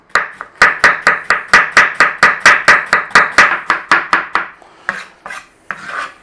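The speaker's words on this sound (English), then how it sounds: "we want to be shredding the cabbage" Cabbage being shredded with a knife on a chopping board: a fast, even run of about twenty crisp rasping strokes, loud and close, slowing to a few scattered cuts at the end.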